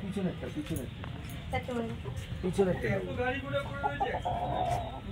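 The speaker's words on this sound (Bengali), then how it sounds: "এটা মুরগি তো, মোরগ।" Chickens cluck and a rooster calls amid a busy scene at home, with people talking throughout over steady background noise.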